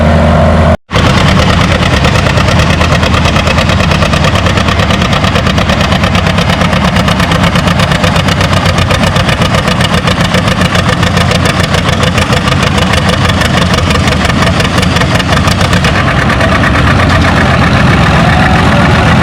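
Loud, steady roar of a John Deere 820 tractor engine under load in a tractor pull, 9,000-pound class at 4 miles an hour, running continuously throughout with only a brief dropout near the start.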